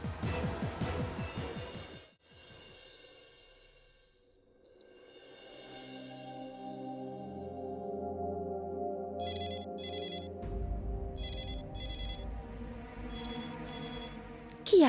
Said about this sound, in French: Qui appelle sur le téléphone fixe?